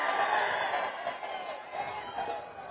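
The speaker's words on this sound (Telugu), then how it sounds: "ఇది మంచి కార్యక్రమం అనుకుంటే గట్టిగా చప్పట్లు కూడా చెప్పండి" A crowd at a political public event with Chief Minister Chandrababu applauds and cheers. The roar is steady, loud, and close, swells early, dips slightly, and then carries on as a sustained wash of clapping and voices.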